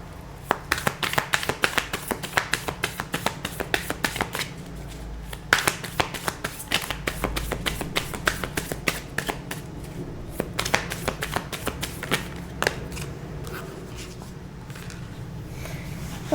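Tarot cards shuffled by hand, a dense run of crisp riffling snaps and flicks that goes on steadily throughout, close and alone with no talking.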